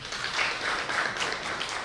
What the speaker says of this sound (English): I also want a big round of applause for Mr.